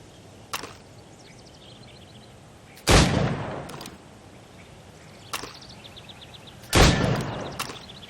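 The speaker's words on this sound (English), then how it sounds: "Go on. Shoot these targets." Four gunshots fired at targets in Assassin's Creed Rogue, spaced a few seconds apart: two sharp lighter cracks and two louder blasts with short decaying tails, against a quiet background.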